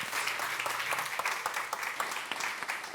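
Dense, steady applause from a lecture audience welcoming a guest speaker, many hands clapping together at an even level for the full stretch with no talk over it.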